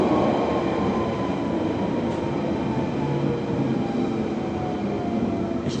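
A London Underground Central Line train bound for Hainault rumbles along in a loud, steady roar with faint squeals and clatter from the wheels, heard from inside the carriage with no voices.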